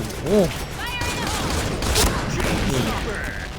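Shotgun fire from an M1014 in the online shooter Point Blank, with loud blasts among dense game noise while someone talks excitedly over the action.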